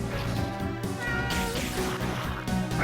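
A cat meows in a video game, a short tonal yowl that sits inside dense, loud game music and effects.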